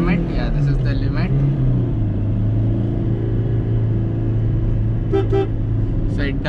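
A 2010 Maruti Suzuki Swift diesel engine at full throttle in first gear holds a steady, loud drone with a low rumble, with a brief higher tone late in the clip.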